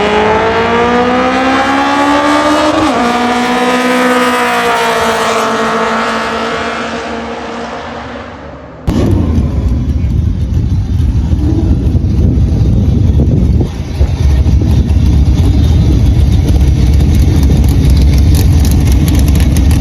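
Acura Integra race car engine on a track rental day, loud and continuous, revving with rising and falling pitch for several seconds, then cutting to a steady, rough idle or low-speed rumble close by.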